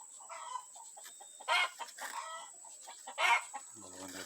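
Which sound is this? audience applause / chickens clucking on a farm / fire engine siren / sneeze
chickens clucking on a farm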